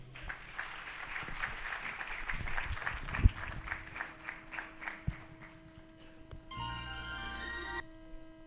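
An audience applauds to welcome a singer at a musical concert in Pune, a moderate patter of claps fading over several seconds before instruments come in.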